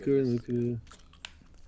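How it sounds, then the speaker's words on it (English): Two short, loud, voice-like "oof" grunts, the Roblox video game damage sound effect, played back to back near the mic, followed by faint background noise and a brief click. "a Roblox oof sound effect here."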